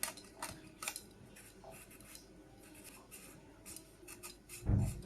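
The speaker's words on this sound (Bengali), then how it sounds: "আমড়াগুলো খোসা ছাড়িয়ে এবার কেটে নেব।" A knife peels and slices hog plums (amra), giving a series of short, crisp scraping and cutting strokes at close range, irregular in rhythm, ending with a louder knock on the board; no one speaks.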